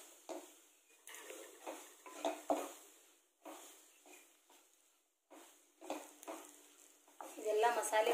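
Masala spices for channa masala sizzle and get stirred in a pan, with intermittent scraping clatter of a utensil against the metal, moderately close, rising and falling in bursts over the full stretch.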